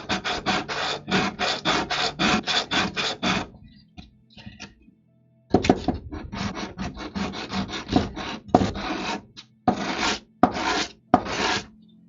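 Hand sanding of a stack of wooden penguin carvings, close and loud: fast bursts of rasping, back-and-forth strokes in steady runs, with a short pause in the middle before the scrubbing starts again.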